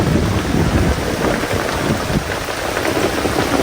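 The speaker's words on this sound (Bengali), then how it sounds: "বৃষ্টিতে অবস্থা খারাপ, যেমন অন্ধকার তেমন বৃষ্টি, সেই লেভেলে নামছে।" Heavy rain pours down on a dark day at a bamboo-cutting work site, a dense and steady loud hiss of drops that continues without a break and with no voices.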